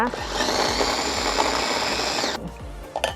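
Food processor whirring as it blends butter and salt, a steady motorized whine and churning for about two seconds before it cuts off, followed by small knocks and handling noises.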